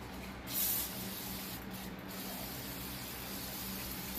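Degreaser cleaner sprays from a can onto transmission parts during a rebuild, a steady close hiss running throughout with a brief louder burst near the start.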